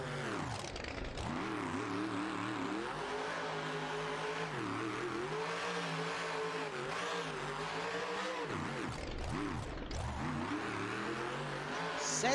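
A monster truck engine revving in a BeamNG stadium racing game, loud continuous simulated engine with rising and falling pitch sweeps as the throttle changes, heard alone without talking.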